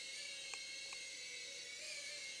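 A BetaFPV Cetus Lite brushed-motor FPV quad flying indoors, giving a steady high-pitched whine that holds level throughout, with a couple of faint taps partway through.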